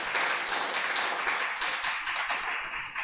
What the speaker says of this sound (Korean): 우리 큰 박수 한번 보내주시면 고맙겠습니다